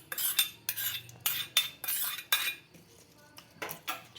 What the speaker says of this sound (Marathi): छान हलवून घ्या.